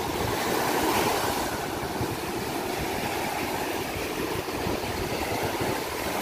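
Continuous wash of sea waves with a low rumbling roar and wind buffeting, steady and fairly loud throughout.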